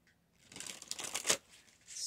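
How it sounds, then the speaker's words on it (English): Tarot cards being shuffled by hand during a reading, a run of soft papery riffles and crisp flicks with one sharper snap near the end, close and fairly quiet with no talking. "do some shuffling."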